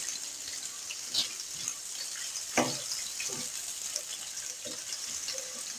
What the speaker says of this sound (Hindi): प्याज को हम फ्राई करेंगे लाइट गोल्डन होने तक।